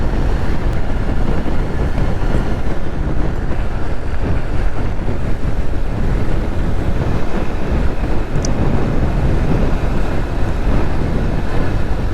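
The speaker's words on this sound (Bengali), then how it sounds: "প্রচুর বাতাস" Strong wind buffets the microphone on a bridge over the Meghna river, a loud, continuous roaring rush that never lets up across the whole stretch, with no talking heard.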